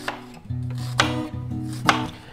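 A knife dices an onion on a cutting board, a few sharp chops landing about a second apart over a steady low hum.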